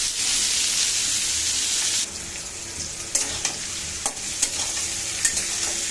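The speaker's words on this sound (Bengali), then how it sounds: "মানে একটু ভালো করে নেড়ে চেড়ে নিচ্ছি" Tengra fish curry is stirred and fried in hot oil, a steady broad sizzle running throughout with scraping stirs and sharp spatula clatters in the second half.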